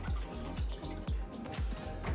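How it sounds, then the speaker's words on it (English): Water runs and drips into a mixing drum at an aquarium water change station, a steady close splashing flow with repeated low drip-like pulses, heard alone with no talking. "I can literally just turn off the water flow like that"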